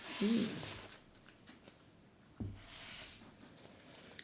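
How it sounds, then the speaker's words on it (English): Tarot cards being handled and drawn, heard as soft papery slides and shuffling rustles with a brief flick, close and quiet, no talking. "let's put these to one side and draw your tarot cards"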